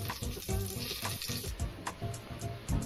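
Bay leaves, torn in half, sizzle and fry in hot oil in a pressure cooker with a steady crackle, close and fairly loud, with a few stirring scrapes and no talking.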